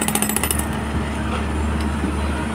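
Jackhammer breaking ground at the Plaza Mexico construction site, its rapid pounding strongest at the start before fading under steady loud site noise and a voice.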